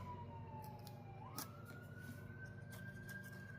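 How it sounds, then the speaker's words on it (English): Emergency vehicle sirens wail outside, a steady distant tone that slowly shifts pitch, faint but continuous beneath a low indoor hum, with no talking. "Wow, you can hear the sirens outside."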